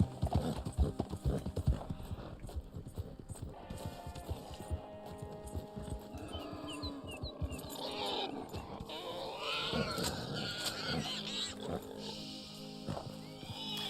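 Horse hooves clip-clopping at a gallop in the Red Dead Online video game, near Thieves Landing, a steady rhythmic beat running through the clip with game music and other animal sounds mixed in.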